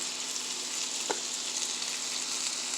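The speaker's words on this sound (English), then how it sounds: "Let it cook. We want that sear." A garlic and rosemary top sirloin, cut from a roast, sears in a pan with a steady, moderate hiss of sizzling fat and a single brief pop partway through.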